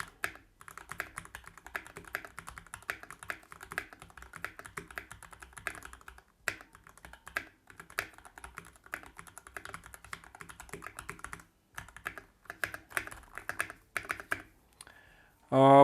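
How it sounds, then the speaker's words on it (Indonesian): Rapid, uneven clacking of keys on a KiiP Y87 steampunk-style mechanical gaming keyboard, close and crisp, typed in bursts with short pauses between them. "Saya pura-pura ngetik dulu ya."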